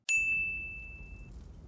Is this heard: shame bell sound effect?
yes